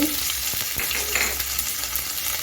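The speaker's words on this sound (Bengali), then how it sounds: "ফোড়নে সাদা গোটা জিরেটা দিয়ে দিচ্ছি জিরাটাকে একটু ভেজে নিচ্ছি" Whole white cumin seeds and chopped ginger frying in hot oil, a loud, dense, continuous sizzle and crackle close up, with a few stirring scrapes in the pan.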